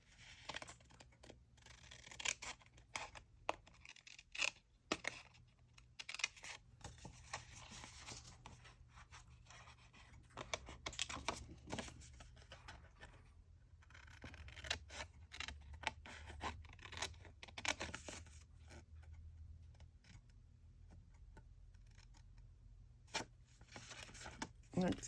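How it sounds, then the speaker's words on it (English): Scissors snip through paper and card while a lapbook is assembled with added pockets and folders, giving scattered close crisp cuts and rustling across the stretch under ongoing low handling noise. "I'm going to cut this down."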